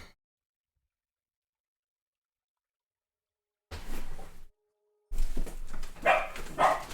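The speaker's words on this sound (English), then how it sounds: "She's literally sitting outside my door barking." Dog named Cora barking outside a closed door, a couple of muffled barks after a long silence, then louder, closer yelps and barks in quick succession.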